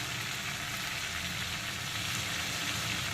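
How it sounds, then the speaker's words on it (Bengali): Dry red chillies sizzle in hot oil left from frying potatoes and prawns, a dense, steady crackling hiss that stays close and even throughout with no talking. "এখন আলু আর চিংড়ি ভাজার তেলেই দিয়ে দেবো প্রথমে শুকনো লঙ্কা ফোড়ন"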